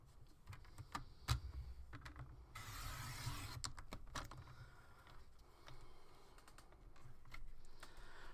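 Faux leather for a planner being trimmed on a paper trimmer: a series of light clicks and taps, a sustained sliding cut partway through, then more intermittent clicks, close and quiet with no talk.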